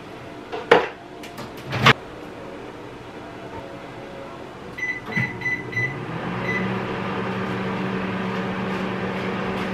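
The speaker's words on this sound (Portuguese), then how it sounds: "pegar minha marmita e colocar ali no micro-ondas" A kitchen microwave oven heating a packed lunch: a few sharp clatters of a container and door, rapid button beeps, then a steady low hum running through the rest.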